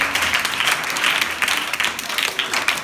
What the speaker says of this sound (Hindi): आइए फिर खुदा के जलाल के लिए जोरदार तालियां बजाइए